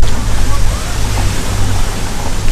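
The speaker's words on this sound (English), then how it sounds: "Grotto with a waterfall, that's perfect." A waterfall in a grotto at Disney's Animal Kingdom rushes as a loud, steady, broadband roar of falling water, filling the whole stretch with constant spray.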